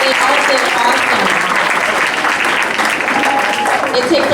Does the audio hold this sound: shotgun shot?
no